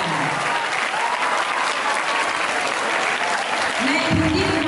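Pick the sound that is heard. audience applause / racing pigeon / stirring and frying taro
audience applause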